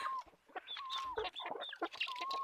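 Country chickens on a forest farm cluck in short, varied calls close by, with a few higher squawks mixed in and no talking.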